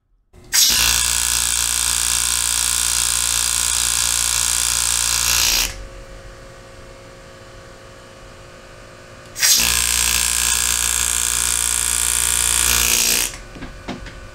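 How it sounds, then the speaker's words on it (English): A small electric engraver cuts into a soft metal stamp made for leatherwork, a loud, steady, high-pitched motor whine in two long bursts separated by a quieter pause. "I've got this little engraver that I picked up a while back, and I've never really practiced enough with it"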